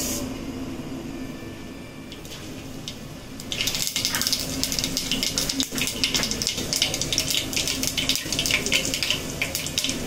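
Mustard seeds splutter in hot oil for a mixed onion, papaya and beetroot pickle. After a few quieter seconds, a dense, continuous crackling rises and keeps popping close by until the end.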